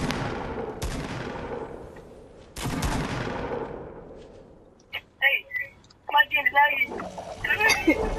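Two loud, close gunshots in the video game Fortnite, each followed by a long echoing tail, then quieter scattered sounds as voices come in.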